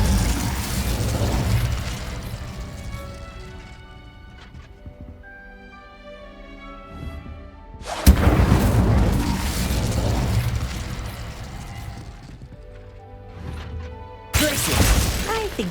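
Fire spell effects from Hogwarts Legacy burst in loud whooshing, crackling blasts, with one swell at the start, a sharp crack around the middle, and a final burst near the end, separated by quieter tonal magical shimmer.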